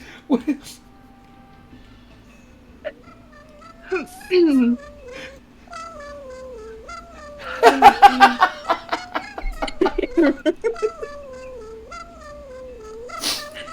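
Cats meow in a video game level, with drawn-out, wavering cartoonish meows and yowls, some overlapping in a dense burst midway, alongside a person laughing and speaking.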